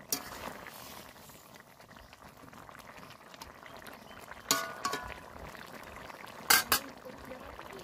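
Fish curry gravy made with rupchanda (pomfret), green chillies and fried fish pieces bubbles steadily in a pan, a soft continuous simmer close by with a few sharper clinks and pops partway through.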